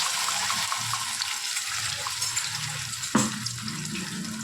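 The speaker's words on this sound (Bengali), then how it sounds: "এবার এর মধ্যে আমরা দিয়ে দেবো টমেটো, রসুন, লঙ্কা" Tomato, garlic and chili paste hits hot oil in a pan, producing a wet, bubbling sizzle with stirring scrapes and a sharp knock of the utensil near the end, close and moderately loud, no voices.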